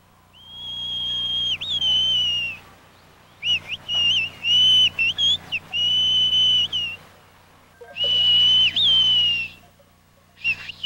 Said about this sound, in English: For a long time, whistling was a common language among the sheep herders of these mountains.